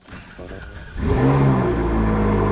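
A car engine idles briefly, then roars up loudly and keeps revving strongly as the car accelerates hard with the AC off, close and dominant.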